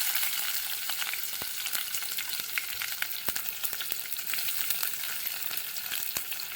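Cinnamon, cloves and curry leaves frying in hot oil, a steady close crackling sizzle with sharp pops scattered throughout and no voices.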